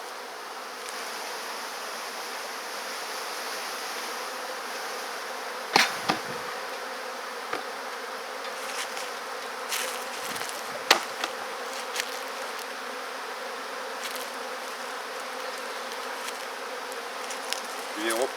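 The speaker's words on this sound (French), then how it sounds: "Ensuite, je vide les abeilles dans la ruchette." Bees from a captured swarm buzz steadily as they are emptied into a nucleus hive, a dense continuous hum close by with a few sharp knocks and taps scattered throughout.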